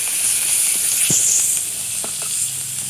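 Chopped chili and onion frying in a pan for a dried shrimp and snake gourd dish, giving a steady bright sizzle with a few soft clicks of stirring, close and without talk.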